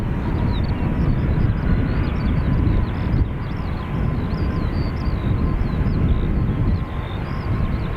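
An Airbus A320neo rolls down the full length of the runway for takeoff at Dublin Airport, its engines giving a loud, steady, broad roar that holds throughout.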